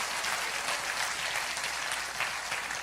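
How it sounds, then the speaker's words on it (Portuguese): A church audience applauds a choir with dense, steady clapping that fills the space evenly and never lets up. "Uma salva de palmas, que coral mais lindo."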